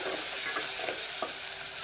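Onion, tomato and curry leaves fry in hot tempering oil for a dry toor dal dish; loud continuous close sizzle with soft stirring scrapes, no talk.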